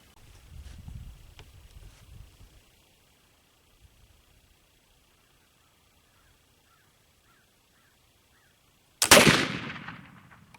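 A black powder rifle loaded with homemade Pacific willow charcoal powder fires one loud, sharp shot near the end, its report ringing off afterward, following quiet with faint bird calls and a little early talk.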